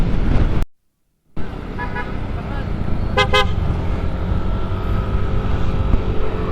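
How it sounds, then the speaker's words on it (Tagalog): Motorized tricycles and other vehicles move through street traffic in Rosales, Pangasinan, with a steady engine rumble, a sharp horn toot and a short dropout near the start. "Mga tricycle talaga dito"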